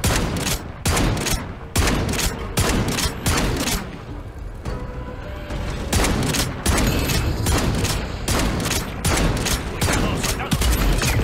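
Rapid bursts of gunfire in Modern Warfare 3 Zombies, many shots fired in quick succession with brief pauses, loud and close throughout.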